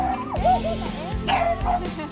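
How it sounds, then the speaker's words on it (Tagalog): Dogs at a morning lookout near Mount Fuji yip and bark in short bursts with a whimpering edge, fairly close, over a steady outdoor rumble. "May mga aso pa."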